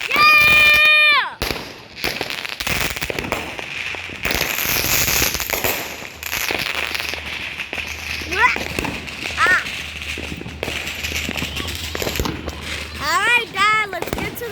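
New Year's fireworks pop and crackle in rapid bursts outdoors, with sharp bangs, scattered crackling and a few whistling trails, while excited voices shout and talk throughout.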